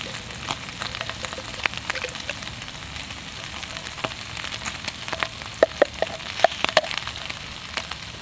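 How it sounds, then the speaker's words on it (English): Bacon and eggs fry in a pan on a Firebox camp stove outdoors, giving a steady close sizzle scattered with sharp crackles and pops, with no talking. "we've let the bacon cook on one side. Now we'll get the eggs cracked in."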